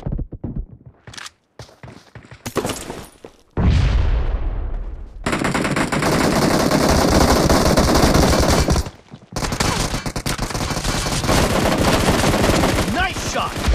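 Gunfire in the mobile battle game BGMI during a team deathmatch: scattered single shots, then long rapid automatic bursts broken by a short pause, loud and close, with no talking.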